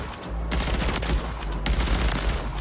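A Warzone 3 blueprint gun fires tracer rounds in a fast, dense rattle of shots that runs without a break, loud and close. No voices are heard over the gunfire.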